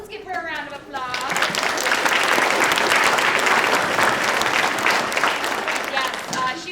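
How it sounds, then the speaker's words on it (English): An audience at a school children's theater production of Johnny Appleseed breaks into a sustained round of applause, building quickly after a brief spoken lead-in and holding steady, dense clapping close and loud. "Let's give her a round of applause."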